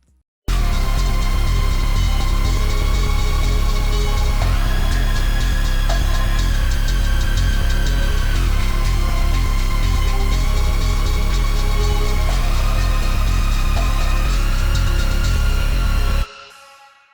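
A dark, grungy rave-style beat melody built in FL Studio, with a loud, dense synth line repeating in steady phrases over heavy low end and continuing without a break until it cuts off.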